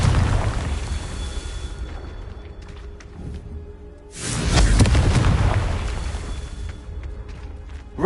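A Confringo spell explosion in the Hogwarts video game bursts as a loud, broad boom midway, swelling and then fading into a rumbling tail, with a quieter rumble before it.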